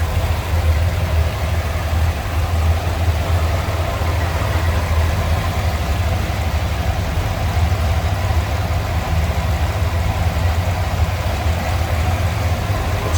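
A 1965 Oldsmobile 442 V8 idles steadily and smoothly, a constant low rumble held close and fairly loud for the whole stretch, with no talk over it.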